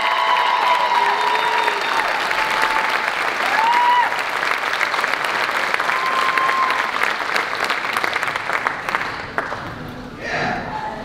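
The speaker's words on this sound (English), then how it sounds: "applause for the symphonic band and percussion." Sustained, energetic applause with some cheering from a high school concert audience after a symphonic band and percussion performance, a few whistle-like tones riding over the clapping before it thins out toward the end.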